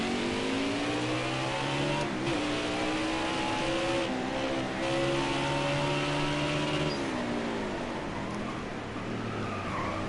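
Several race cars in a Sonoma stock-car racing video game roar together, their engine notes layered and shifting as they rev through gears, loud and continuous throughout with no voices.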